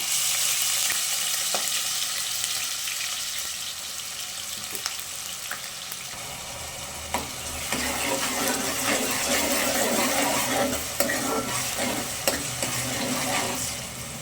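Onions sizzle and crackle steadily in hot oil, with occasional stirring scrapes; no talking, close and moderately loud throughout.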